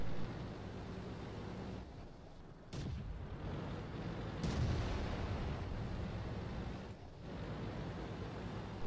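Booming tank cannon fire from a StuG in World of Tanks on a desert battlefield, heavy blasts cutting sharply through a low rumbling background, one after another a few seconds apart.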